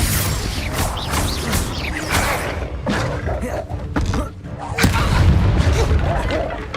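Spell blasts from the Confringo fire curse in Hogwarts Legacy, heard as repeated loud booming impacts and crackling bursts amid chaotic combat, with a sharp blast near the five-second mark and voices shouting in the background.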